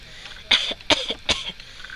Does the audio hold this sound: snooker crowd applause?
no